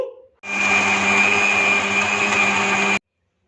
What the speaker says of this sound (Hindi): इसे अच्छी तरह से ब्लेंड कर लेंगे।